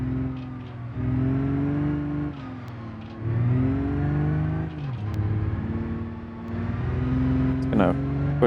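Car engine revving and accelerating in first gear in the BeamNG driving game, a droning motor that rises and falls through several surges, with a voice talking over it.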